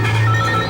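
A telephone rings for an incoming call, a brief, loud electronic tone that is steady and close, with no voices.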